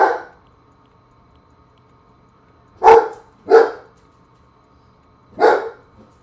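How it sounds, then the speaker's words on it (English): A pet dog barks indoors during a home drawing livestream: three sharp, fairly loud barks, two in quick succession and one a couple of seconds later, after a faint opening yip, with quiet room tone between. "Let's not bark, please."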